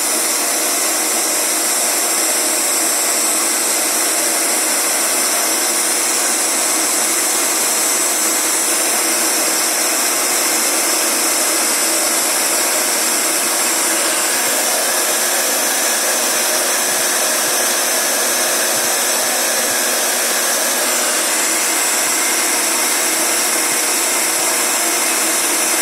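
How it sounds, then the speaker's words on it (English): A heat gun blows a steady, unbroken hiss and whir while drying the surface of freshly thrown clay nesting bowls, loud and close, continuous throughout with no talking. "I like to use a torch or use a heat gun to dry the surface"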